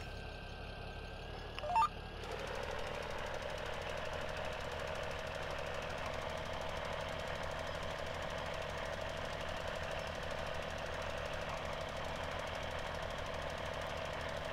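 A John Deere 4630 tractor engine in Farming Simulator 17 starts with a brief click, then settles into a steady, knocking diesel drone that runs evenly and unbroken to the end.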